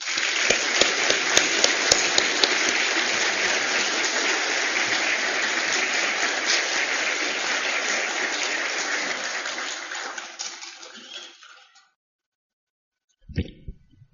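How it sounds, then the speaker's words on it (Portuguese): An audience applauding a ceremony honouring an engineer of the year, with sustained clapping from a crowd fading out after about ten seconds and then a short muffled thump near the end. "Peço uma calorosa salva de palmas para o nosso eminente engenheiro do ano"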